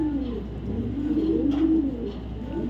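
A light-coloured female racing pigeon at a breeder's loft coos in a steady, close, throaty series of low rolling notes, with no talking over it.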